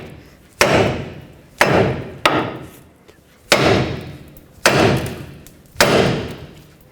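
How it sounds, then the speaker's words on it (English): A hammer strikes the steering knuckle of a 1997-2003 Ford F-150 front end to pop the ball joint free, six loud, sharp metallic blows at uneven intervals, each ringing out briefly, close by, with no talking. "we're going to use a hammer right here on the knuckle, and that's going to pop the ball joint free off of the knuckle"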